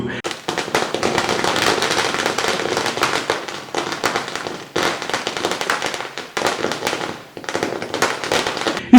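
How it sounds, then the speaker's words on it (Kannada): Firecrackers burst outside in a village during a celebration for a new panchayat president, a loud, rapid volley of cracking bangs in dense bursts with brief gaps between strings. "ಹೊರಗಡೆ ಪಟಾಕಿ ಸೌಂಡ್ ತುಸು ಜೋರಾಗಿ ಇತ್ತು"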